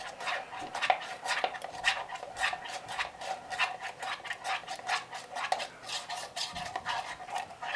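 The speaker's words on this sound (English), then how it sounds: "You just want to kind of mix it up, make sure you get all the clumps out." Dry MRE beef frankfurter bean component stirred in its pouch or tray, a steady run of scraping, rubbing strokes with occasional utensil clinks, close and moderately loud, with no voices.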